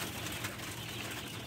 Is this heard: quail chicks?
yes